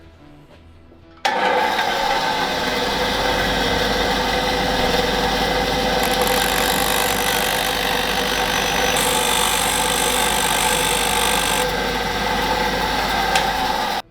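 A Dremel rotary tool grinds a part to match a countersink, starting after a brief quiet moment, then running as a steady loud whine with slight shifts in pitch for over twelve seconds.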